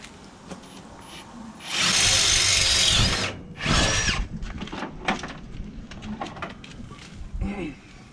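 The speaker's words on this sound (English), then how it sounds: "The less steel you take out in the first drill bit, the better it is." A power drill whines loudly in two bursts while drilling through steel to fit scrub bars on an Isuzu D-Max, a long one then a shorter one, with a faint scraping, grinding bite between them and quieter handling noise afterward.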